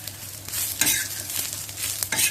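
Raw rice is dry-roasted in a pan and stirred, giving close scraping and rustling strokes that come in quick bursts over a faint background hiss.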